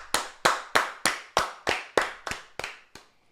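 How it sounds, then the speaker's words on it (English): Hands clap about ten times in a steady rhythm, close and crisp, for Liverpool winning the Premier League, with the final claps softer before stopping. "Round of applause for Liverpool."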